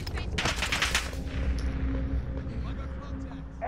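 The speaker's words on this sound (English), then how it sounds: "I'm getting shot like a mofo." Warzone gunfire, with a dense rapid burst up front followed by scattered shots and rumble, while a voice talks over the action.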